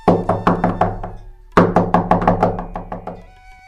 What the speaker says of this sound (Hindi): किसी ने दरवाजा खटखटाया